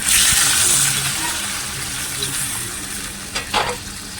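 Hot water is poured into a pan of rohu fish curry as it fries, a loud continuous sizzle and hiss with a brief splashing burst near the end.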